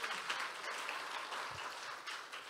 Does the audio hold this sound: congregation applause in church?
yes